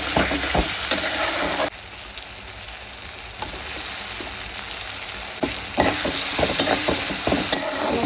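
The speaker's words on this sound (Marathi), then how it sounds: "बोंबील करते मी आता." Bombil (Bombay duck fish) frying in a pan, a steady loud sizzle with bursts of crackle and occasional stirring clatter, continuous throughout with no talking.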